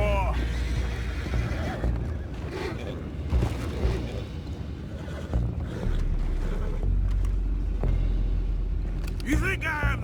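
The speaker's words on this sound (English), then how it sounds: "Boys, go find out about those horses down below." Horses in the Red Dead Redemption 2 game neigh and whinny loudly amid clip-clopping hooves, rumbling ambience and brief voices, with a shrill whinny near the start and another near the end.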